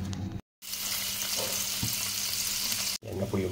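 Garlic sizzles in a pan for sinangag, Filipino garlic fried rice made with leftover rice, as a steady close crackle and hiss, with a brief cut near the start and a few soft stirring scrapes.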